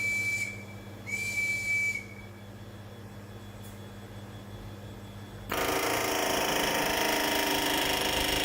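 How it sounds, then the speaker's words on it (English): Two high, steady warning whistles sound in a metal-working lab, followed by quiet room hum; then a loud, continuous peening racket abruptly starts and carries on to the end. "the whistling is just to let other lab users know that there's going to be a loud noise shortly"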